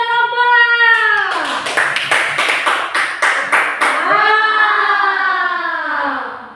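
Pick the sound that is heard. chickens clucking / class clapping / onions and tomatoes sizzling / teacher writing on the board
class clapping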